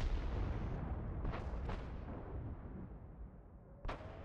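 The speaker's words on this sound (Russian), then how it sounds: "Мне показалось, что по мне еще кто-то стрельнул." Tank cannon fire in World of Tanks, a deep rumbling boom that decays slowly, followed by two sharper distant shot cracks and another hit a few seconds later, with no talk over it.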